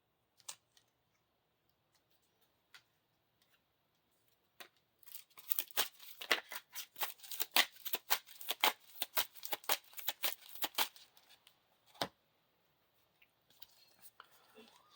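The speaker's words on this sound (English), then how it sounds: "Shuffle the encounter deck." A deck of game cards for a Lord of the Rings card game is riffled and shuffled in a dense run of crisp, rapid flutters, preceded and followed by a few soft isolated card taps in a quiet room.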